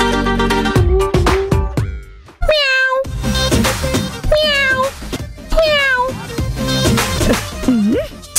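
A person imitates a cat, producing a run of loud, close, drawn-out meows with rising and falling pitch, separated by short pauses.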